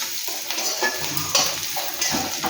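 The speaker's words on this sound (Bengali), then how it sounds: "পেঁয়াজগুলা লাল লাল ভাজা হয়ে গেছে" Onions browning in oil in a pan while being stirred for a kochu mukhi dal, a loud close sizzle broken by repeated scraping and stirring strokes, no talk.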